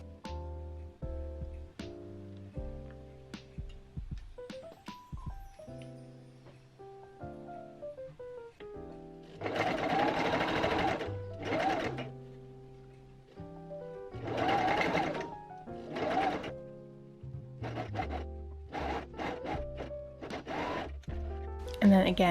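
Sewing machine stitching a bedsheet fabric strip onto a dress cup, running in several close, steady bursts with pauses between, under background music.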